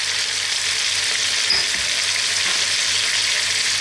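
Whole allspice, black peppercorns, cinnamon and cloves sizzle in hot oil, a steady, bright frying hiss that stays even throughout, close and alone with no talking.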